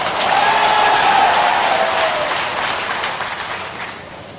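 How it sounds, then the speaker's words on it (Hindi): Loud, thick applause from a crowd at a BJP public meeting in Hatpipliya, Dewas, with a faint whistle-like tone early on, gradually tapering off toward the end. "ऐसे नहीं, कोरोना की ताली बजाओ।"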